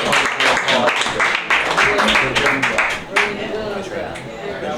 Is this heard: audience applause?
yes